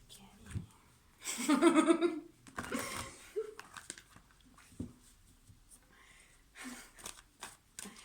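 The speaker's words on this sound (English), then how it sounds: "Going to shuffle them." A deck of cards is shuffled by hand during a card reading, heard as a brief burst of riffling and rustling near the start, then softer handling of the cards amid quiet pauses.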